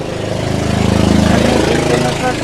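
A tractor engine idles nearby with a steady, loud, low chugging throb that pulses evenly throughout.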